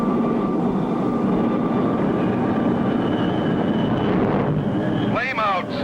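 Jet aircraft engine roaring steadily far out over the ocean, then flaming out, its drone breaking into wavering, sputtering whines near the end.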